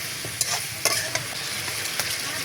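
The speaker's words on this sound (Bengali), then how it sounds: "সজনে ডাঁটা আলু এগুলো ভালো করে কষিয়ে নেব" Drumstick stalks and potatoes sauté in a pan, a steady sizzle punctuated by sharp spatula scrapes and knocks as they are stirred.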